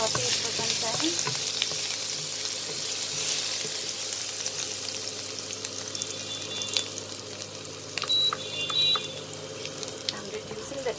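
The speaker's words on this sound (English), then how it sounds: "add the garlic, chopped garlic. This will give a lovely flavor. Saute it for some time." Chopped garlic sautéing in a pan during a chicken and baby corn stir fry, giving a steady, fairly soft sizzle throughout, with occasional faint clinks and a brief brighter hiss near the end.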